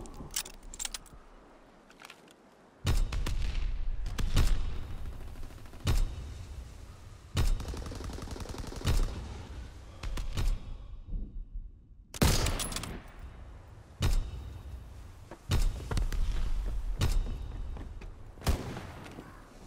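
Repeated gunfire in a Call of Duty WWII battle, with sharp bursts of shots and volleys landing every second or two across the stretch, some loud and close, others more distant and rattling.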